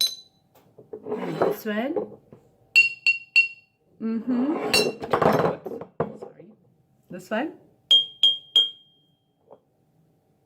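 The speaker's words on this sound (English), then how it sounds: "We just want to release the frequency of sound from each of these bottles" Glass bottles struck one at a time, each ringing at its own pitch in short bright clinks, some in quick succession, alternating with someone talking close by.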